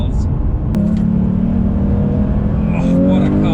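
A Porsche sports car engine, a 911 R or GT3 Touring, revs loudly and close by, a deep throaty drone that climbs in pitch toward the end, with a voice speaking over it.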